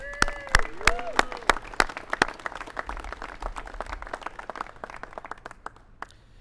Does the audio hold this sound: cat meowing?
no